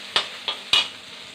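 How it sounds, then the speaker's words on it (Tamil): Onions sauté in a pan for an okra stir-fry, with three quick scraping stirs of a spatula over a soft, steady sizzle, close and fairly clear. "வெங்காயம் நல்லா வதங்கிடுச்சு."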